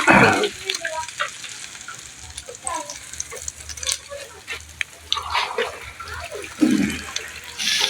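Water poured into a pan of frying fish over an outdoor cook setup, a steady hiss and bubbling sizzle with sloshing bursts, continuing throughout with scattered clatter.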